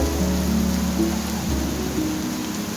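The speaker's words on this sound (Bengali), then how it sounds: "ঝুমঝুম বৃষ্টির শব্দ কি বলবো" Heavy rain pours outside near a house gate, a dense, constant roar of falling water heard close and steady, with no voices over it.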